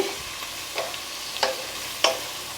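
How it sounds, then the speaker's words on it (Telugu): Onions browning in oil for a prawn and okra pulusu, a soft steady sizzle with three or four sharp scraping stirs of a spoon against the pan, close and alone. "ఈలోపు ఉల్లిపాయ మంచిగా ఎర్ర రంగు వచ్చేస్తుంది"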